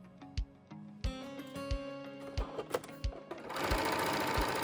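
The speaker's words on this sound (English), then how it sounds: "Sew them with a 7 mm or 1/4 inch seam using a regular straight stitch." A home sewing machine runs a regular straight-stitch seam on fabric bands, its needle thumping in a steady mechanical rhythm, then speeding into a continuous whirring hum, alone and fairly quiet.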